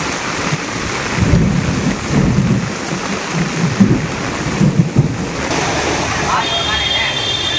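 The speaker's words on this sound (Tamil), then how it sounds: "பள்ளிப்பட்டு, கேஜி கண்டிகை, பொதுற்றூர்பேட்டை ஆகிய பகுதிகளில் கனமழை கொட்டி தீர்த்தது" Heavy rain falls steadily in the Pallipattu area of Tamil Nadu, a loud continuous wash with low rumbling surges that suggest thunder, recorded outdoors with no voices over it.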